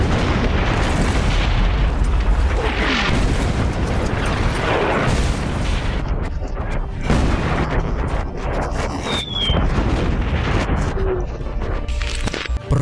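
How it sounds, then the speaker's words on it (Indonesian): Heavy artillery explosions shake the ground in a continuous, dense barrage of deep booms and rumbling blasts, loud and layered throughout with little pause. "pasukan Jerman segera menembakkan artileri beratnya sehingga menciptakan gelombang ledakan yang mengguncang tanah"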